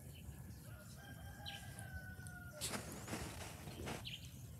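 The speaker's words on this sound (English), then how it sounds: "Them roosters going off." Roosters crow at dawn, one drawn-out call close by with others fainter in the distance, over a low rural background hum.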